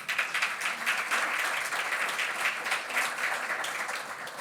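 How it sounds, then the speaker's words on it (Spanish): Steady applause from a conference audience in Chile, a dense even patter of many hands held at a moderate level for the whole stretch, with no voices standing out. "Le brindamos un caluroso aplauso también."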